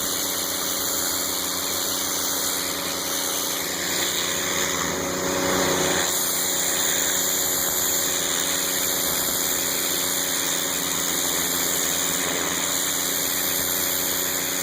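A Northstar gas pressure washer runs with a turbo nozzle, giving a steady, loud engine and pump drone with a hissing spray that stays continuous and unbroken throughout, heard close with no talking.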